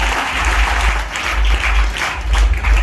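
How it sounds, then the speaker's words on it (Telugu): A church congregation claps steadily at a Telugu Christian service. The dense applause runs throughout at close, even loudness. "చప్పట్లు కొట్టండి."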